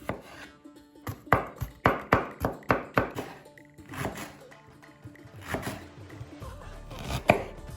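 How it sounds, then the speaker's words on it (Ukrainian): A knife chops garlic rapidly on a cutting board, a quick run of sharp knocks, then scattered scraping and a few more knocks. "Часник та дрібно рубаємо"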